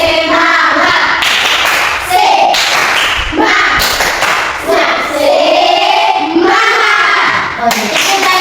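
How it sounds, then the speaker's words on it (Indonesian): A classroom group performs a rhythmic patterned spirit clap, loud and close, with bursts of hand claps and slaps alternating with voices calling and singing along throughout. "Satu kali lagi lebih semangat. Mulai. Tepuk semangat."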